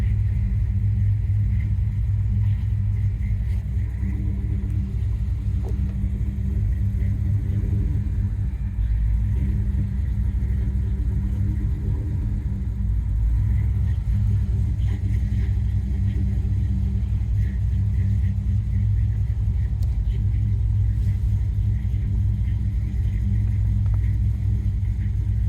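A 1991 Ford Mustang LX with a GT40 crate motor idling after a cold start, its engine giving off a low, steady rumble with a slightly uneven pulse that holds close and constant, with no talking.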